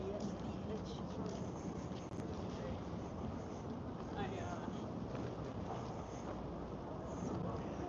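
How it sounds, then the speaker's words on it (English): Steady breezy wind buffets a windscreen-covered microphone outdoors around Copley Square in Boston, a continuous low rumble filling the whole stretch with no gaps. "I have the windscreen on my mic, but you'll probably still hear it."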